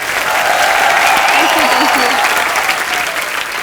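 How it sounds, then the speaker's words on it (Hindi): Studio audience on the Kapil Sharma Show bursts into loud, dense applause welcoming actress Aishwarya Rajesh, sustained clapping with a brief vocal whoop in the middle of the crowd. "ऐश्वर्या के लिए जोरदार तालियां।"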